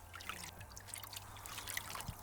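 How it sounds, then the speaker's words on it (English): Luffa sponges are rinsed and squeezed in water, a soft, faint trickle and drip of water with small splashes, close up and steady, with no talking. "I'm now just rinsing them really well in water to get them clean and squeezing any bits out."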